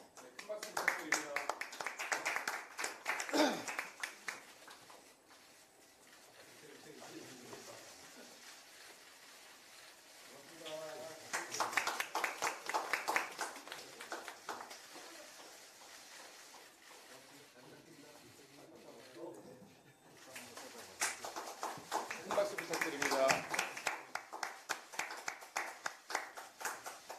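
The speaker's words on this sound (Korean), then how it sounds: "네, 큰 박수 부탁드립니다." Bursts of clapping rise and fall in a hall at a political party's recruitment ceremony, three separate rounds heard at moderate distance with a host's voice speaking between them.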